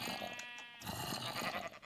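Minecraft sheep bleating in a modded survival game: a short wavering bleat, fairly quiet, followed by a few softer in-game rustles and thuds.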